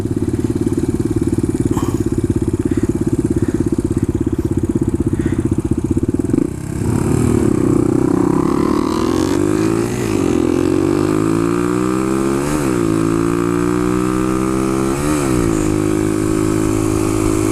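A Suzuki DR-200 motorcycle being ridden, its steady close engine drone shifting into rising and falling revs with repeated gear changes, loud throughout.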